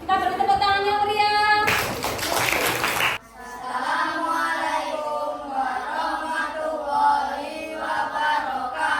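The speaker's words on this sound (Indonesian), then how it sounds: "Kita beri tepuk tangan yang meriah." Brief applause for a group presentation at an academic coaching session: a short burst of clapping hands swells for about a second and a half, then cuts off as a voice begins speaking.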